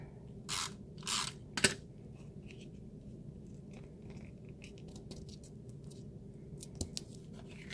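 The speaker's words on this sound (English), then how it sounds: "I can tape that in the back so I can make up" Adhesive tape is pulled and pressed onto the back of a paper greeting card, with two short, close tearing bursts followed by a sharp crackle, then quiet shuffling.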